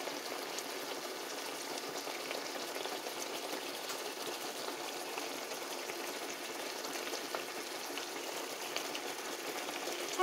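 Pork steaks fry in a pan, giving a steady, even sizzle that stays soft and constant throughout with no break.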